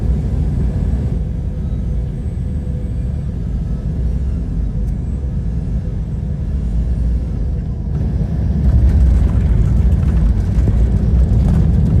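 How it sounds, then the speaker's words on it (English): Airliner on a landing approach with a late turn toward the runway, a steady low engine rumble heard from the ground, distant at first and growing slightly louder near the end. "This plane doing a special approach with a late turn so passengers can see the runway they're about to land on"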